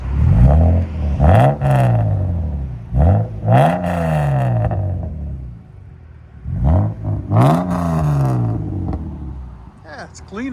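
A 1999 BMW M3 with a 3.2L inline-six, catalytic converters removed and a Sebring muffler, revs up and falls back in several deep rising-and-falling sweeps, with voices talking over it.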